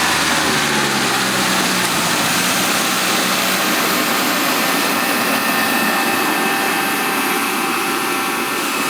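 A car engine running continuously and loud, a steady broadband roar with a slight pitch drift early on, with no talking over it.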